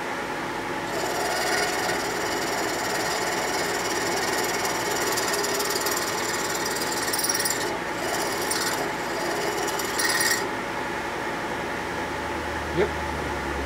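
A drill bores into a Harley shovelhead big-bore motor part, a steady grinding rasp running nearly continuously, close and fairly loud, with a brief pause late on.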